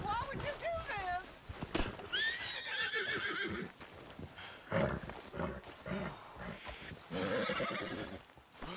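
A horse in the Red Dead Redemption 2 video game neighs and whinnies several times over clip-clopping hooves, loud and close, while someone shouts over the animal.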